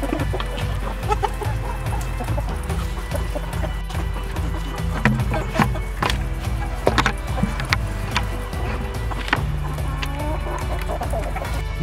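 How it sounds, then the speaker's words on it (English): Several roosters in a chicken tractor cluck continuously close by, steady and overlapping, with occasional sharper calls and a low rumbling background. "I believe all the chickens in this tractor are all roosters."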